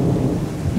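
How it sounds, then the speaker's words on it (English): A loud, deep rumble of thunder rolls through a heavy rainstorm, with rain hissing steadily on surfaces throughout the short moment. "Y'all heard the thunder"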